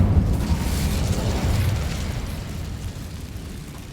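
Incendio fire spell cast in Hogwarts Legacy, a rumbling burst of flame that swells loud at once and then fades slowly over a few seconds, no talk.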